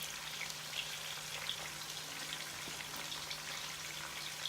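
Onions and garlic sizzle in hot oil, a quiet, even crackle with scattered small pops that runs steadily and alone.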